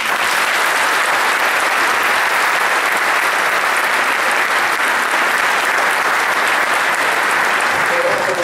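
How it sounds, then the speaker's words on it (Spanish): Loud, sustained applause from a large crowd for a jazz band, steady and dense throughout with no pauses. "un fuerte aplauso nuevamente para esta tremenda banda."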